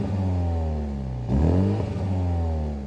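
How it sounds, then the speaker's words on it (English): A 2022 Mini John Cooper Works engine in sport mode with active exhaust revs sharply from idle, rising to a loud, close burst and then settling back into a rumbling idle. "give it a rev now that we're in sport mode."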